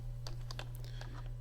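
A computer keyboard clatters with a quick burst of close keystrokes as a folder name is typed, over a steady low electrical hum.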